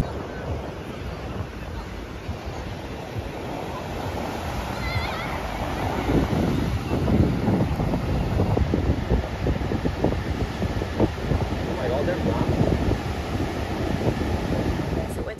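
Surf rolls onto Batu Belig beach in Bali as steady wind buffets the microphone, a broad continuous wash that swells louder about halfway through, with no talking.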